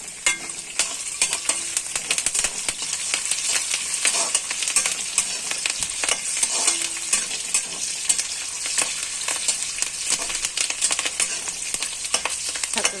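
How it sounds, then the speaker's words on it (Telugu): Onions, green chillies and curry leaves frying in a pan give a loud, continuous close sizzle, with light stirring scrapes scattered throughout and no voices. "చక్కగా వేగాయి కదా ఉల్లిపాయలు, పచ్చిమిరపకాయలు, కరివేపాకు"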